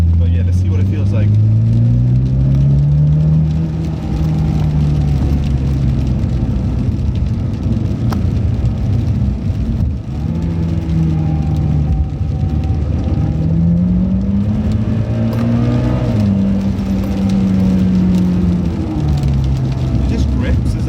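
Mitsubishi Lancer Evolution X with a rebuilt active yaw control pump, driven briskly through corners; a loud, steady engine drone rises and falls as the revs climb and drop, with a voice talking over it.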